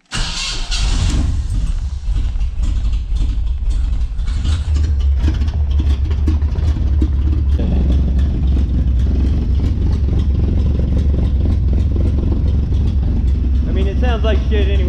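A worn work truck with a glasspack exhaust cranks and fires, then settles into a loud, rough, rumbling idle that runs throughout, with someone talking over it near the end.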